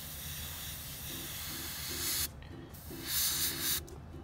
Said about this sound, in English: when you're doing your fine lines or your fine detail work, you absolutely want to spray at a low PSI